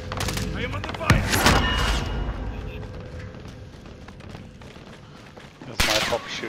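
Gunfire in a Warzone Rebirth match: loud bursts of automatic fire and sharp shots, with a heavy volley early and another near the end, under players talking.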